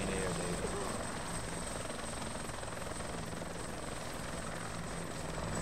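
Military helicopter spinning up for takeoff in ArmA 2, a constant dense rotor and turbine roar with a sustained high whine, steady and close throughout; faint voices may sit under the engine noise.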